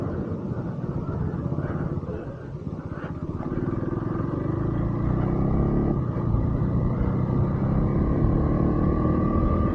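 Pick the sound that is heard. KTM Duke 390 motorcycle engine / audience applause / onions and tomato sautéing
KTM Duke 390 motorcycle engine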